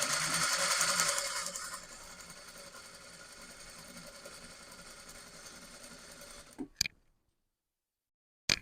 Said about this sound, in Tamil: அதே அளவுக்கு கீழ்பட்டி பக்கத்தை தைக்க போகிறேன்